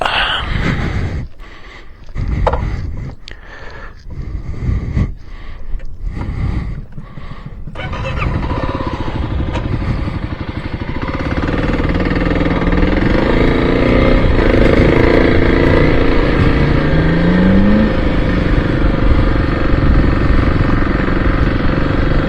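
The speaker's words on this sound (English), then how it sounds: "This Kawasaki KLX is kind of really a lot more bike than this old guy needs." A Kawasaki KLX dirt bike on a desert ride, its engine running steadily and close, with a sustained drone that grows fuller after a quieter, choppier opening stretch.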